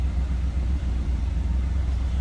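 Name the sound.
1975 Chrysler Cordoba engine running, stock exhaust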